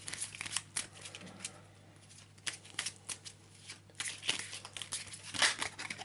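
Quiet, close-up shuffling of an Arkham Horror card deck on a tabletop, a series of soft riffling and sliding bursts separated by brief pauses.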